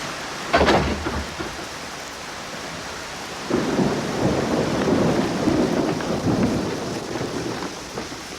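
Steady downpour of heavy rain in the bush with a deep roll of thunder swelling partway through, the hiss continuing without any voices.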